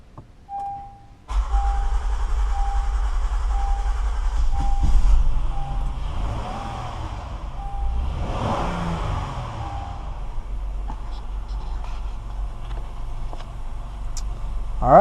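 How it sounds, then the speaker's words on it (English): A 2016 Honda Pilot engine, just back from fuel injector replacement, cranks and catches about a second in, then settles into a steady, close idle hum that continues to the end. "Let's start it up and let's see how it goes."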